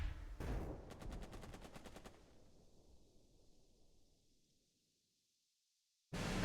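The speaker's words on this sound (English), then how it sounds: "Fire a mortar." Mortar fire in the Burden of Command war game: a sharp blast, then a rapid string of cracking shots that fades into a rumbling decay and silence, before another loud burst hits at the end.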